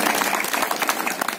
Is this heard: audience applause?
yes